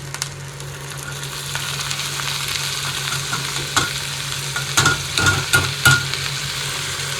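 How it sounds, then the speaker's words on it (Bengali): Potato pieces tossed into a pan of frying onion, green chili and garlic and stirred: a steady sizzle with scraping spoon strokes, then several sharper knocks and clatters toward the end. "এবার এর মধ্যে দিয়ে দেবো আলু।"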